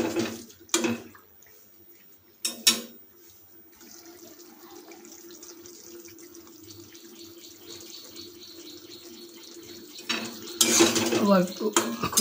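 A spatula stirs ridge gourd poppy seed curry, thinned with a little water, in a metal pan. It makes sharp clanks and scrapes at intervals, with quieter bubbling and stirring in between and a busier rattle near the end.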